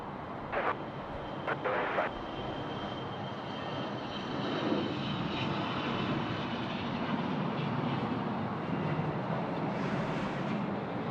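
A Bombardier Global 5000 business jet at Sydney Airport gives a steady distant engine whine and rumble, with a few sharp clicks early on and faint voices in the background.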